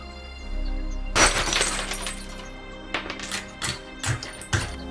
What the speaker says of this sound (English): To open the cupboard, simply break the glass.